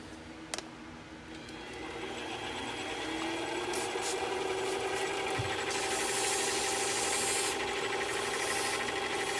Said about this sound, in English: I am going to be using this tool here to chamfer the inside of the ring